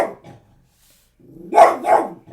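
A dog barks twice in quick succession, loud and close, after a brief low growl and a stretch of quiet.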